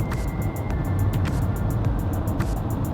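A Peugeot e-2008 electric SUV in eco mode accelerates from inside the cabin. A steady low road rumble and a faint motor whine fill the cabin and stay constant, with light rhythmic ticking above and no one speaking.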